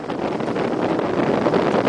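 Violent wind gusts of Cyclone Nargis in Burma, reported above 200 km/h, roar as a loud, continuous broadband rush that buffets the microphone steadily throughout, with no voices.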